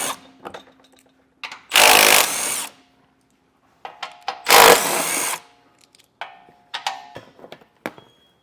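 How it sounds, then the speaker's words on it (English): Power tool driving out bolts with a 13 mm socket while removing a panel on a 2024 GMC Canyon, two loud bursts of whirring about a second long each, separated by quieter clicks and handling noises. "we're going to take a 13 millimeter socket, remove all our bolts, and get our panel out of the way"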